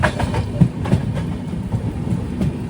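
Tatanagar Express rolls along the rails on a rainy day, heard from inside a 3AC coach as a steady low rumble with regular clickety-clack wheel beats and no voices.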